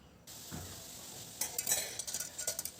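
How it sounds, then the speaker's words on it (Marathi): Cooked dal being stirred into spiced masala in a pot at home, with soft scraping and clinks of a spoon against the metal rising into busier, irregular stirring toward the end; close and fairly quiet. "जी डाळ शिजवून ठेवलेली आहे ती टाकत आहे आणि छान असं त्याला मिक्स करून घेत आहे"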